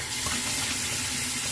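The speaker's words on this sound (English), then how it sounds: "let me rinse it off" Tap water running while a straight razor is rinsed, a steady close hiss of flowing water for a brief moment.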